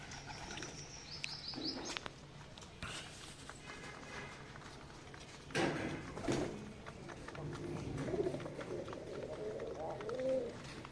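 Pigeons kept at home coo softly and repeatedly in a low, rolling tone, fairly close, amid faint shuffling, footsteps and wing movement, with quiet background activity.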